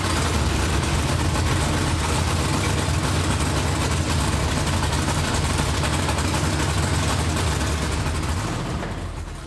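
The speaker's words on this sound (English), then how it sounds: "I'll probably slide in a clip here so you can hear how it was idling" A supercharged 1987 Chevrolet K-10 truck engine idles with a steady, loud, low rumble that holds for the whole stretch and tapers slightly at the end, with no voices.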